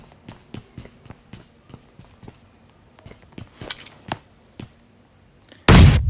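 Grenade blast in the battle royale game PUBG: a sudden, loud, broadband explosion erupts near the end, after a stretch of scattered sharp clicks and light footstep-like taps.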